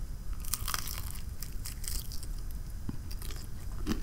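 A cheese calzone is bitten into close to the mic, and the soft crust crunches, followed by steady moist chewing and smacking with no talk.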